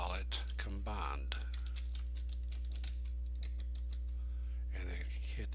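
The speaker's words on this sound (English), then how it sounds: "then hit enter on your keyboard" Keys clatter on a computer keyboard in quick close taps that run through the whole stretch, under a steady low electrical hum, while a person talks at the start and near the end.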